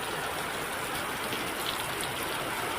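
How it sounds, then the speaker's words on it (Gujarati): Heavy rain pours over the villages of Mundra in Kutch, Gujarat, a soft, even, continuous hiss of falling water heard from a distance, with no voices. "મુન્દ્રાના ગ્રામ્ય વિસ્તારોમાં ધોધમાર વરસાદ વરસી રહ્યો છે"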